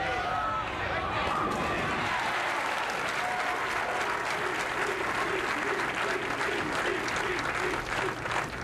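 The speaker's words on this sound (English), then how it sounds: "The crowd picking up the chant, Pete, Pete, Pete." A bowling-tournament crowd at a 1982 pro event applauds loudly and steadily throughout, with cheering and rhythmic chanting rising from the mass of voices, close and continuous with no pause.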